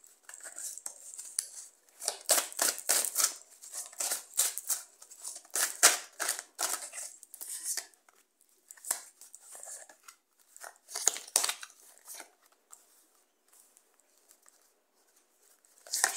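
Tarot cards being shuffled by hand in repeated close bursts of riffling and patter with short pauses between, fairly soft, with no talking.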